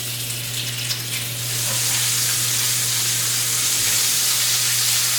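Oil sizzling in a smoking cast iron pan while cooking porterhouse pork chops, a loud, steady hiss that swells and then holds, with a low hum underneath.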